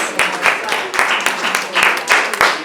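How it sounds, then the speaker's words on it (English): A classroom group claps together in a quick burst of applause, scattered hand claps layered into a steady patter with a few louder individual claps, close by and without talk. "wrap your conversation by giving yourselves a round of applause"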